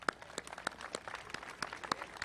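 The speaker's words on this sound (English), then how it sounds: "Now we applaud them all." Scattered applause from the audience at a Houston Veterans Day ceremony honoring local officials, with sharp individual claps standing out from a thin, uneven patter that never builds into a full ovation.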